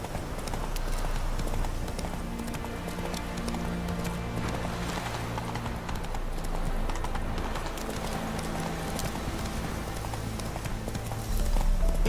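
A horse gallops in The Witcher 3, its hooves beating a steady, continuous clip-clop rhythm up close, layered over ambient game sound with no talk.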